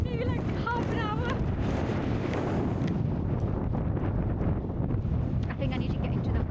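Strong gusts of wind buffet the microphone on an exposed hillside during a hike near Alport Castles, a continuous loud roar with a few bleats of sheep early on.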